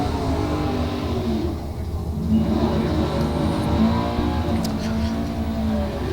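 A drag racing car, Craig Meyer's big black Plymouth Sport Fury with a 500 cubic inch Chrysler engine, roars in a loud, sustained engine drone that holds steady across the run, no talk over it.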